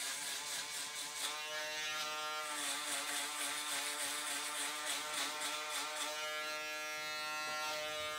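Andis hair clippers buzz steadily and close up throughout, a continuous electric motor hum with a slight wavering as the blades move through hair.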